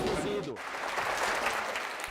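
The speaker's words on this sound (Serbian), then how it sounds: "Deci je najuzbudljiviji deo koncerta bio aplauz, pa su uzbuđeno pozdravljali muzičare" Children at a concert applauding the musicians, a continuous crowd clap heard beneath a narrator's voice throughout.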